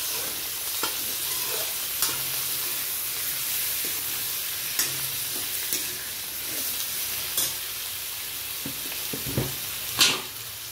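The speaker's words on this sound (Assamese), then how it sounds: "সোনকালে ভাজি লওঁ আৰু এতিয়া মাংসখিনি দি দিলোঁ" Chicken meat frying in a pan with onion, garlic and ginger, a continuous close sizzle broken by occasional clinks and scrapes of stirring, with no talk.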